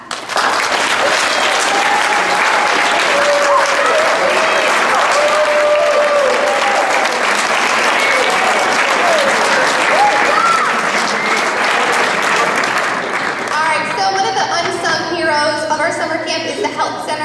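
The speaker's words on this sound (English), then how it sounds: "So crew, give them a clap." Audience at a junior fitness camp closing ceremony clapping, a loud, sustained burst of applause carrying on for over ten seconds, some cheering mixed in, before it breaks off and a voice begins speaking.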